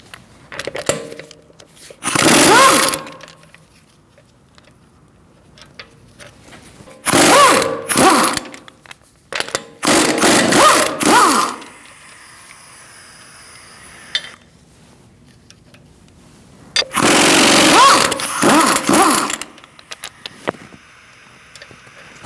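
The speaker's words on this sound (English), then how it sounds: "Using a 17mm socket, we're going to remove our wheel." Socket wrench with a 17mm socket loosening the wheel on a 2008-2014 Mercedes-Benz C300: four loud bursts of rapid ratcheting, each about a second or two long, separated by quieter pauses.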